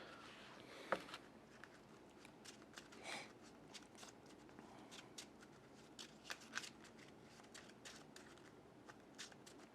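Playing cards shuffled back into a deck during a Marvel Champions card game, a soft, quiet riffling patter with scattered crisp snaps, no talk.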